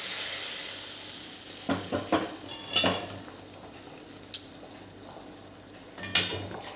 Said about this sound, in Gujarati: હવે એની અંદર આપણે આ બાફેલી તુવેર છે તે એડ કરી દઈશું।